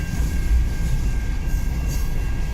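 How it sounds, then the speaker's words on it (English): A long southbound CN freight train hauling lumber cars rolls past in Richmond, Michigan, giving a steady low rumble with a faint high squeal above it, fairly close and unbroken, without speech. "That's a big train."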